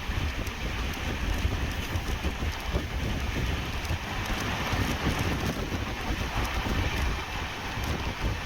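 Onboard an express running behind a diesel locomotive between Thiruthuraipoondi and Pattukottai, a steady, rushing rumble of the moving train mixed with wind noise, continuous and fairly loud throughout, with no speech.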